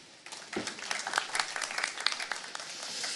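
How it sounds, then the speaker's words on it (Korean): Applause from the audience at a maritime culture scholars' conference in Wando, welcoming a university professor to a panel discussion; scattered claps that build into moderate, uneven clapping over a few seconds. "큰 박수로 맞이해 주시기 바라겠습니다"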